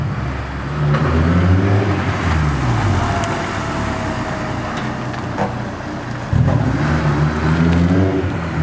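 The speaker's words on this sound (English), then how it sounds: "You're gonna drive around in circles for like an hour." Car circling steadily to break in a brand-new limited-slip differential, engine droning at a constant pitch with rising and falling harmonics as it loops, close and loud throughout, with a brief throttle surge near the end.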